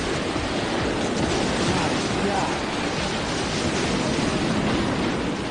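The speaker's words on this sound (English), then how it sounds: "a section of the pier sways in the pounding surf." Ocean waves pound a swaying section of a pier during a raging storm surf, producing a dense, continuous roaring wash that stays loud and steady throughout.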